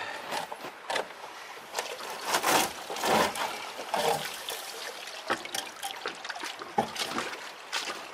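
Water sloshes and splashes repeatedly as a gold pan is washed out outdoors, with irregular close swishes and trickles.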